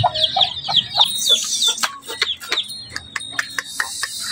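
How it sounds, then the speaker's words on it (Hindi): Chickens and young chicks cluck and peep in a zoo enclosure, with rapid, overlapping high chirps and short clucks close by, continuing throughout with no talking. "ये देखिए चूजे कम है"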